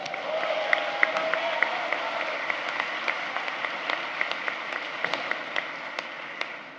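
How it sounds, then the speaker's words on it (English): A large audience at an Executive MBA graduation ceremony applauds the students, a dense, sustained roar of clapping mixed with crowd noise and a few sharper claps, without any speech over it. "So I just want to give you my round of applause."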